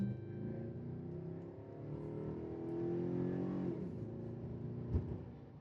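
A 5.7 Hemi V8 in a Ram pickup idles and revs, a low throaty rumble that swells and settles, followed by a sharp knock near the end; faint and steady, with no talk.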